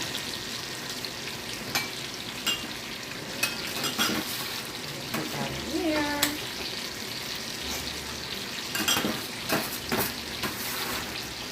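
Coarsely grated onion hits a hot pan and fries with a steady broadband sizzle, broken by scraping and stirring strokes from a utensil; no one speaks over it.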